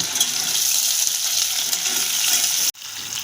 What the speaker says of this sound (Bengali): এই যে আমি করলাটা দিয়ে 2 মিনিট নেড়ে নিয়েছি।